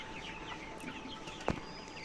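Chickens on a poultry farm of about 1300 colour birds cluck faintly in the background, with one short, louder call standing out.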